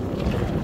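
Strong wind on a Finnish lake during snowfall and boat salmon trolling buffets the microphone with a loud, steady, low rumble and no voices.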